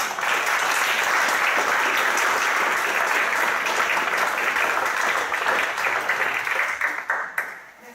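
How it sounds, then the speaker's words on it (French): Sustained audience applause for architecture students after their performance, a dense, loud wash of many hands clapping that holds steady before thinning and fading toward the end. "Je vous demande déjà de les applaudir avant que je finisse."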